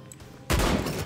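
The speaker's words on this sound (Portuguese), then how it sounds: "Eu vou atirar aqui pra ver se eu vejo alguma coisa" A burst of gunfire in the game iLLWill erupts suddenly after a quiet moment, a loud, dense crackle of shots that holds for about half a second, close and without talk.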